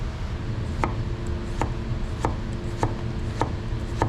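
A Yaxell Zen santoku knife cuts through cucumber in crisp, evenly spaced chops, about one every half second, six or seven strikes in all. The chops are close and clear over a low steady background, with no voices.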